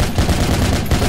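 Gunfire in the Project Reality video game: loud, dense rapid-fire bursts rattling continuously through the whole moment with no pauses.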